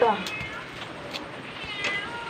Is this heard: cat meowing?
yes